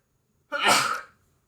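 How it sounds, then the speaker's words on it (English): A single short, sharp human sneeze bursts out close by, then silence. "good sneeze"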